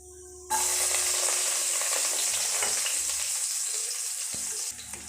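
Chopped garlic hits hot oil already crackling with mustard seeds and cumin, bursting into a loud, steady sizzle that holds for several seconds with faint stirring underneath.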